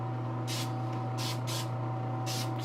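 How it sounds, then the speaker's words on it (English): Spray paint hissing in short bursts onto a custom Donna Troy statue, three close, bright blasts of under a second each over a steady electrical hum and background drone. "I'm spraying close, but I'm not spraying heavy and letting it bleed."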